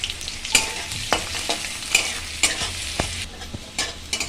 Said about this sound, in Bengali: রসুনটা আমি একটু ভেজে নিলাম।